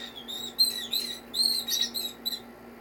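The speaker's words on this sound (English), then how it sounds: "You hear these crazy birds in the background? They just yell." Pet cockatiels and other birds in a busy indoor room let out repeated shrill calls and chirps in quick bursts, fairly faint and in the background, over a steady low electrical hum with no talking.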